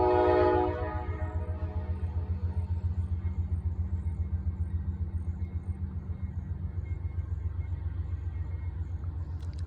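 CSX freight train sounds a short, loud horn blast at the start, then the horn cuts off and the train keeps rumbling past with a steady, rhythmic clatter of rail cars.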